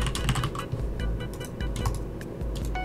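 Rapid typing on a computer keyboard: a continuous run of close, crisp key clicks in an uneven rhythm, with a low background hum beneath.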